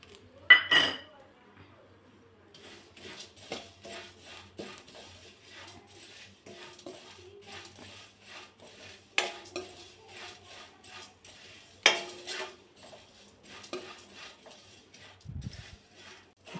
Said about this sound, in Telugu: ఇందులో కప్పు అటుకులు వేసుకొని వేయించుకోవాలి.